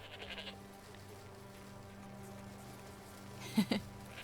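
Sheep bleating in the video game Forspoken, two short bleats close together near the end over a steady low hum and ambient game noise.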